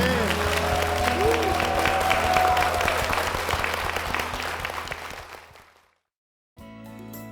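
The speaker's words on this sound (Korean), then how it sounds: "주님께 영광의 박수 올려드리겠습니다" A church congregation applauds, steady dense clapping that swells, then slowly fades to silence before a different sound starts.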